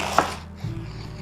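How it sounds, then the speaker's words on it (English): A knife cuts through a quarter of cored cabbage into strips, giving one sharp, close chop followed by a softer cutting thud against the board. "So I'm going to quarter it, then cut each quarter"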